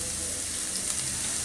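Minced garlic, about a tablespoon, hitting hot oil over high heat: a loud, hissing sizzle that holds steady through the short stretch, with faint background noise.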